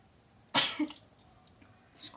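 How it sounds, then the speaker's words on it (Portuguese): A single sharp sneeze bursts out close by during a craft session working acrylic putty with a small spoon, followed by a softer breathy trailing sound and then quiet. "Desculpa o espirro."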